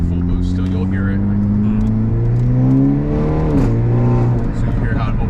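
Tuned Hyundai Elantra N accelerating hard at full throttle with two people aboard, the engine tone climbing steadily in pitch as the exhaust valve opens, heard from inside the cabin with a brief shift dip partway through.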